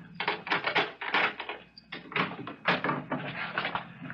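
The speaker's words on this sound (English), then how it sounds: "hold the groceries while I open the door." Someone handles a door at an apartment entrance, a series of clattering knocks and rattles from a lock, handle and door. The sounds come in uneven bursts and are fairly close.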